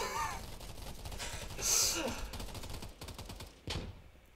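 Gunfire in the video game Polygon: a steady stream of rapid shots packed under a busy mix, with a brighter burst near the middle and another sharp hit near the end, while a player's voice gasps and talks faintly over it.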